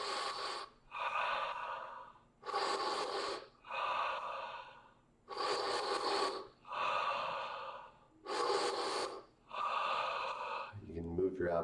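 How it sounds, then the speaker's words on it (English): Forceful breath-of-fire breathing exercise: six sharp, intense inhales alternating with calmer exhales in a steady rhythm, close and loud, with no talking. "Kind of an intense inhale, serene exhale. Kind of a breath of fire."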